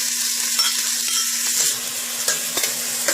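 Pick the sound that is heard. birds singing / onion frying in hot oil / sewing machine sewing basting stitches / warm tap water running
onion frying in hot oil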